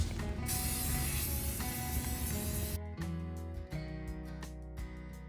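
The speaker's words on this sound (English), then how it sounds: "spray it with this black flat enamel paint." A steady hiss of an aerosol can spraying black flat enamel paint sputters for a few seconds, then cuts off, leaving faint mechanical clicks and a low hum.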